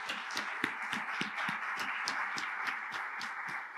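An audience claps steadily at a scholarship presentation, rhythmic individual claps at moderate level over a constant hiss, fairly quiet and distant with no talk over it.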